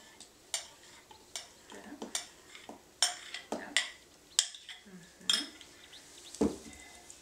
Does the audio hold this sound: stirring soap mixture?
yes